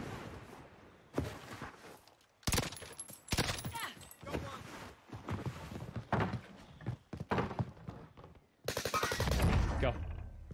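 Gunfire in the video game Warzone, with repeated sharp bursts of shots in irregular clusters and a dense, louder volley near the end, mixed with game noise.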